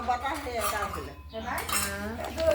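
Brass kansa utensils clinking and clanking together at close range, bright metallic chinks and rings from pots and dishes being handled, continuous through the moment with a brief lull midway.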